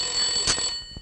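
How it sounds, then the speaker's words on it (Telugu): A telephone rings with a short, bright electronic bell-like trill, loud and close, cutting off after about a second. "ఎవరైనా వచ్చి ఫోన్ తీయండి."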